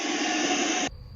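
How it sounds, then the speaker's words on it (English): A loud stand dryer blasts air while drying a dog, a steady roaring hiss that cuts off abruptly near the end and leaves a quieter room. "So once I turned on the dryer,"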